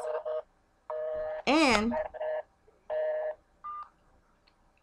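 Touch-tone dialing beeps on a real telephone, a series of short steady tones pressed one after another with brief gaps, close and clear, with a voice breaking in between them.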